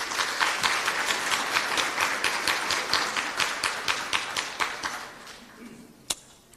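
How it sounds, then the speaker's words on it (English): A conference audience applauds in a room, with a dense burst of clapping that holds steady, then thins out and stops with a few last claps. "give each and every single one of us in this room a round of applause"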